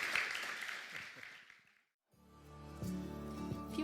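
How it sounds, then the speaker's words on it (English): A church congregation applauds at a Sunday morning gathering, a dense spread of clapping that fades to silence, then gives way to a soft musical bed. "So if you guys can give a round of applause to these awesome crew that came up and are vulnerable."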